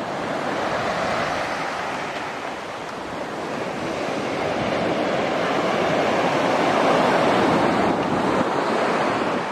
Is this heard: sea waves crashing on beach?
yes